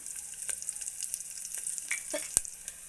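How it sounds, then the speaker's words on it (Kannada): Curry leaves sizzle softly in hot oil, with scattered sharp pops and crackles over a quiet background hiss. "ಇವಾಗ ನಾನು ಸ್ವಲ್ಪ ಕರಿಬೇವು ಸೊಪ್ಪನ್ನು ಹಾಕ್ತಾ ಇದ್ದೀನಿ"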